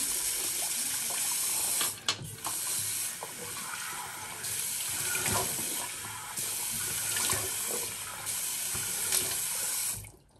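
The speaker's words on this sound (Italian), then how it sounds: "Asciughiamo con acqua fredda." Cold tap water pours steadily into a sink while rinsing after a shave, a close, continuous hiss and splash with brief breaks and shifts as hands move under the stream.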